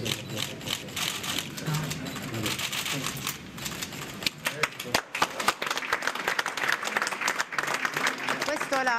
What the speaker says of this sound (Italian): L'applauso del personale di Casa Sollievo che ha accolto questa visita